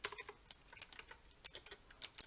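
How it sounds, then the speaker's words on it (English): Keys on a computer keyboard tap out a search query in quick, irregular bursts of crisp clicks, close and fairly quiet, with no voice. "I'm going to go back over here to Google. And I'm going to type in Lot's"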